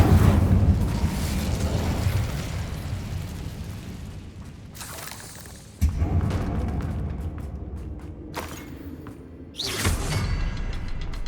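A fire spell bursting into flame in the wizarding game Hogwarts Legacy: a loud, roaring whoosh that thins out, then a second surge around the middle and a third near the end, with no talking.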